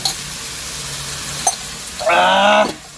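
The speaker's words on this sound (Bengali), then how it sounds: "অলরেডি আমাদের এখন কড়াইয়ের মধ্যে দিয়ে দিলাম মশলা" Spices hit a hot kadai and start frying, a quiet hum and a small knock giving way near the end to a loud, close burst of sizzling that lasts under a second and then fades.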